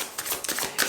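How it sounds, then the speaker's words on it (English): Tarot cards are shuffled by hand in quick, riffling bursts of papery flicks, close and fairly loud, with no talk. "As I was shuffling the cards and I was meditating on this"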